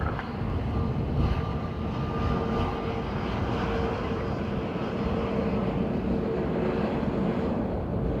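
A Ryanair airliner on arrival at Dublin Airport on a windy morning roars steadily, its broad engine rumble sustained and loud throughout, with gusting wind buffeting the microphone.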